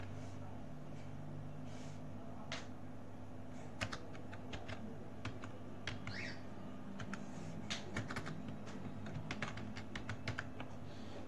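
Subject names typed on a computer keyboard, soft irregular clusters of key clicks spread across several seconds over a faint steady room hum.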